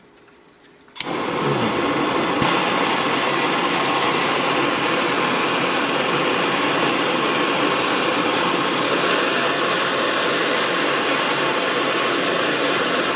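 A torch flame roars steadily while heating a copper pipe fitting for soldering, a loud continuous broadband hiss that ignites abruptly after a second of quiet and holds unchanged throughout.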